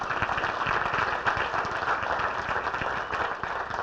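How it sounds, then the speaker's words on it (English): Banquet guests applaud together in a hall, a dense, steady burst of many hands clapping that stays loud throughout. "Let's give them a round of applause."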